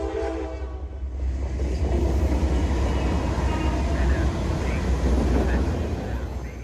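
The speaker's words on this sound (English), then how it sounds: "The third train in the parade, a high-priority intermodal," A high-priority intermodal freight train passes through Rochester, its horn sounding first, then a loud, close, steady rumble of rolling cars with rhythmic wheel clatter.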